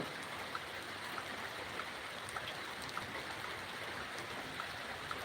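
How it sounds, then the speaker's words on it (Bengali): Light drizzling rain falls steadily over a village home, a soft continuous patter with faint scattered drops, even and unbroken throughout with no voices. "দেশে গুড়ি গুড়ি বৃষ্টি হচ্ছে"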